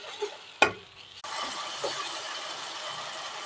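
Spice masala with turmeric, chilli, coriander and cumin powders and tomato puree is stirred in a pan for a potato gravy; a sharp clatter comes first, then a steady close sizzle with light stirring scrapes.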